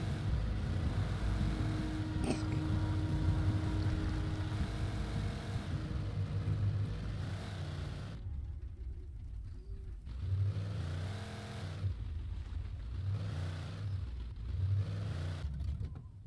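A car engine in the video game Alan Wake Remaster hums and revs loudly, then drops away and returns in a few surging bursts before fading.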